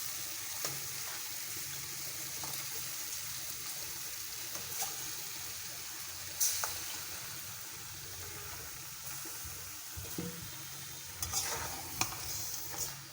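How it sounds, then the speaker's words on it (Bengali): Goat meat for a Bengali-style bhuna sizzles quietly in spiced oil paste while being stirred, with soft scraping and occasional louder clinks of the spoon against the pan, fairly faint and close, no talking. "এবার মাংসগুলোকে ভালোভাবে নেড়ে চেড়ে নেব"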